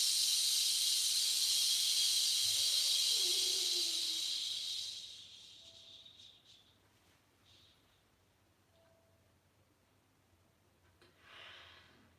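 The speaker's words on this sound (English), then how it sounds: "we're going to switch to a shh sound" A long, steady shh exhale during a breathing exercise, a loud close hiss lasting about five seconds before fading into quiet room tone with a soft breath near the end.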